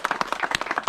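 Applause and clapping from an audience at a rally or protest march, a dense, steady patter of many hands close by, lasting under a second.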